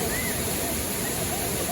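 River water rushes and pours over a waterfall in Kenya, a steady, dense, close roar with no break, the flow loud and continuous.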